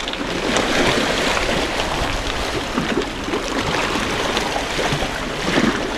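Choppy waves on a lake in Türkiye wash and splash steadily, with a broad continuous rush of water and wind, close and fairly loud throughout, no voices.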